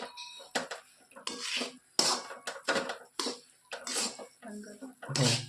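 Crisp unroasted puffed rice (mamra) handled for laddoos, giving repeated dry rustling, crunching bursts in an uneven rhythm, close and fairly loud, with a person talking in between.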